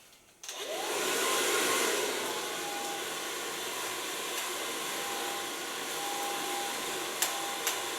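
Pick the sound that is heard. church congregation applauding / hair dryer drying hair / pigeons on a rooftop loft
hair dryer drying hair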